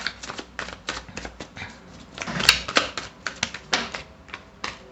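Tarot cards being shuffled and drawn from a deck, a rapid run of crisp papery flicks and slaps close by, with no voice over them.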